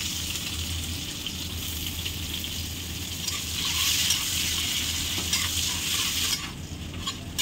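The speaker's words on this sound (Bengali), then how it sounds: "হালকা লাল লাল করে পেঁয়াজটা ভেজে নিয়েছি বন্ধুরা, দেখুন।" Chopped onions frying in oil with whole spices, a continuous close hissing sizzle with a low hum beneath and occasional stirring scrapes toward the end.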